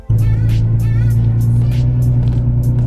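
Inside a driving car, a loud, steady engine drone with a strong low hum that holds through the whole stretch, along with repeated higher whooshing sweeps.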